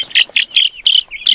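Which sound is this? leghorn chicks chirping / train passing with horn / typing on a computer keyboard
leghorn chicks chirping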